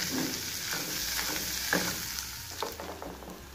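Bacon sizzling in a pan gives a dense, steady crackle of frying fat, with a few louder pops and the scrape of stirring close by, and no voices.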